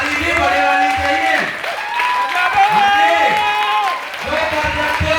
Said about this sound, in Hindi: तो ताली भी बड़े वाली चाहिए